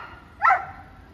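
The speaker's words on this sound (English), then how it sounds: "dog is hungry, that guy is bawling out for KFC" A single short dog bark or yelp rings out mid-distance on a town street outside a KFC in Kings Heath, Birmingham, rising briefly over steady background hum.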